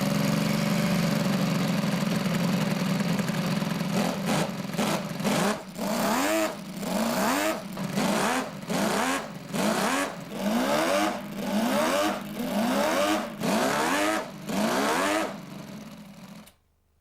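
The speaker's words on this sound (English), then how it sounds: "under the body, you'll find a scaled-down version of the original engine, which actually works. It makes the Ferrari music." A scaled-down, working Ferrari 12-cylinder engine idles with a steady hum and then revs repeatedly in rhythmic surges, about a dozen loud rising blips close by, before cutting off into silence.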